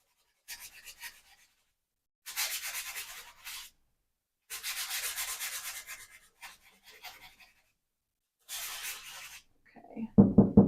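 Pastel blended on a drawing by rubbing, heard as several short bursts of close, dry, rasping strokes separated by pauses, followed by a few quick knocks at the end.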